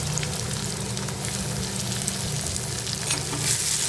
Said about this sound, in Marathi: कांद्यासोबत टोमॅटोही व्यवस्थित परतून घ्यायचा आहे आपला